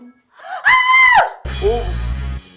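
A woman lets out a loud, high-pitched frightened scream lasting about half a second near the start, followed by a lower sustained voiced sound and background music in a comedy ghost scene.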